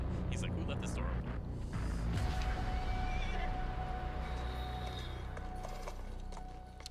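Horse sounds from an Ubisoft game trailer shown at a press conference: a whinny and hoof clip-clops among mechanical effects, with people talking over them at moderate level.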